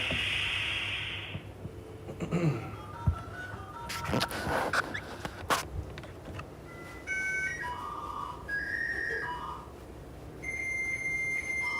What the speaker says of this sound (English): How many of y'all remember that noise? Old dial-up sound.